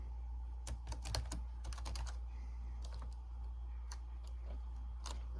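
Typing on a Dell laptop keyboard, with irregular bursts of clicky keystrokes and a few separate taps over a steady low hum, close and fairly quiet.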